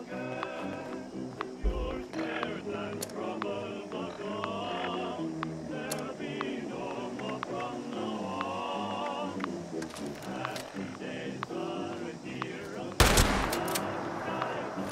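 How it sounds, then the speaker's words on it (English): Sporadic gunshots in Fallout 76, sharp isolated cracks scattered over a busy game soundscape with a louder blast near the end, while a voice speaks throughout. "You shoot me?"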